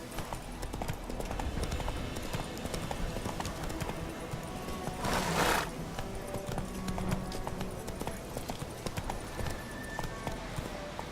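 A horse gallops in The Witcher 3: Wild Hunt, a steady run of rhythmic hoofbeats over a constant background of game ambience, with a short whoosh partway through and a voice urging it on.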